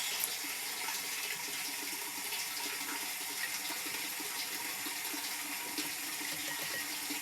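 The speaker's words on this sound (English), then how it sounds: "Then a hot water rinse," Hot water runs steadily from a tap or hose to rinse dairy milking equipment, a continuous hissing splash at moderate level with no voices.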